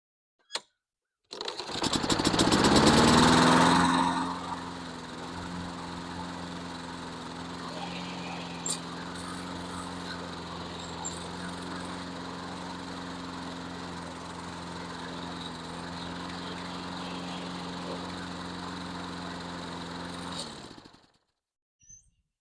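A LawnBoy AWD walk-behind mower with a Kohler 149cc engine starts with a loud burst, then settles into a steady, even running drone close by for about fifteen seconds before cutting off abruptly, with no talking.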